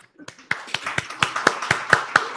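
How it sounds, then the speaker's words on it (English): An audience at a live talk-show session claps back at the host, a run of sharp, fairly regular claps building over two seconds, with a voice talking under them. "Clap if you manifest."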